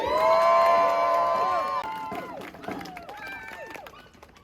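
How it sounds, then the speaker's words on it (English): A crowd at a Cardiff street protest cheers and whoops loudly, with high shouts and voices rising over the group, then the noise gradually fades out. "we're going to give a big round of applause for Hamdi"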